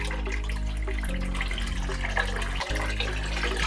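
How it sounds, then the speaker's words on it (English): Apple cider vinegar pours steadily into a container of water, a continuous close-up trickling and filling wash that holds at an even level throughout. "I'm gonna just pour some of my apple cider vinegar into the water"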